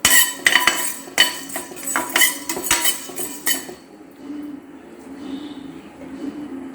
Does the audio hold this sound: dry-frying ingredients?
yes